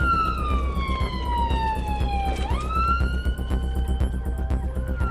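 An ambulance on a blue-light emergency run sounds its siren, loud and close, with a tone that sweeps down, jumps and shifts pitch over road noise.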